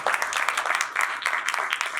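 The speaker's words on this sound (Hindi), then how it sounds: "अपने लिए 2000 तालियां करें।" Dense, steady applause from a congregation at a Hindi-language Christian sermon on blessings, a continuous wash of many hands clapping for the full two seconds with no clear voices over it.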